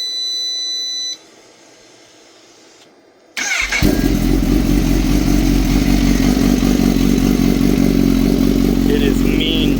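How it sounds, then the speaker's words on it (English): Kawasaki ZH2 fitted with a Brock's Penta-Carbon full exhaust on a cold start: a few electronic beeps and a quiet lull, then the engine catches with a sharp bark and settles into a loud, rough, close idle. "So I'm gonna let you guys hear it on a cold start this morning"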